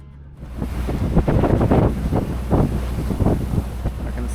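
Wind of about 12 knots on a sailboat at sea off New Zealand's islands, a loud, continuous gusty rush buffeting the microphone, mixed with sea and hull noise, no speech.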